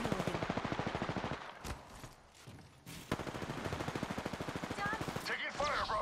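Sustained rapid automatic gunfire in a squad-based video game shooter, steady bursts close and loud, breaking briefly around the middle before resuming, with voices talking over it.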